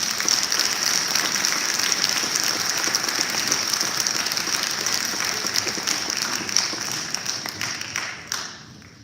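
Audience applause for students at an academic recognition and scholarship program, a sustained spread of many hands clapping at a distance, fairly even before tapering off and dying away near the end.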